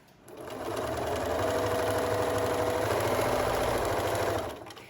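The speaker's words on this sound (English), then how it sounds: "I do kind of drive fast with my sewing machine" A sewing machine stitching a hooded towel runs fast for several seconds, its motor whirring in a dense, even buzz that starts and stops abruptly, close and alone.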